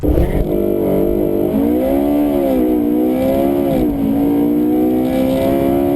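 A naturally aspirated 4.6-litre V8 capable of revving to 9200 rpm howls loudly and continuously, its pitch swinging up and down through repeated rises and dips in a close, sustained drone.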